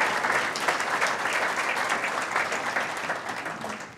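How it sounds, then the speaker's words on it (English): Audience applause for public health staff at a community forum, a loud, sustained clapping from a crowd of people that holds steady and then tapers slightly toward the end. "give those folks a round of applause"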